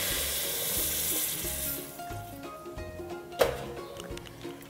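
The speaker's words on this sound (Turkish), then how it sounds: "Üzerine geçecek ölçüde suyumuzu ilave ediyoruz." Water is poured into a pan of sautéing carrots and potatoes for a minced-meat and pea dish: a loud, steady sizzle for about two seconds drops to a softer bubbling simmer, with one sharp clink near the end.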